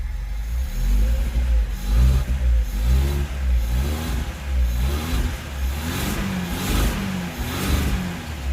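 An old Lada engine with stale fuel rumbles close by after starting on choke, revving up and down repeatedly in uneven surges over a steady low idle.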